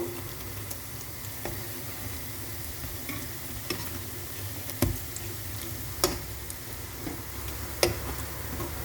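Pumpkin leaf fritters (bora) frying in hot oil, giving a soft continuous sizzle broken by occasional sharp clicks and taps of a utensil against the pan, close and moderately quiet.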